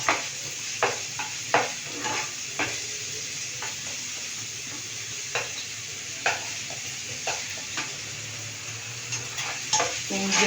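Three finely chopped onions frying in a pan for chicken curry, a constant close sizzle broken by repeated scraping and tapping of a spoon stirring, with faint talk in the background.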